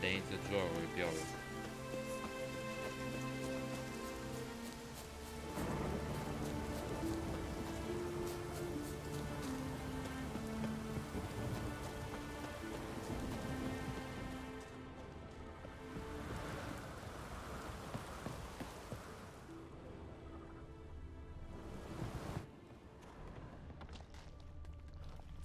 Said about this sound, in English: È da inizio gioco che piove.